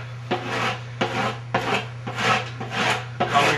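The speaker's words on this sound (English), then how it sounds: "last thing you want to do before you go surfing is take your wax comb," A wax comb scrapes across a fresh coat of surfboard wax in five or six rasping strokes spaced about half a second apart. Each one is close and dry, with a steady low hum running underneath.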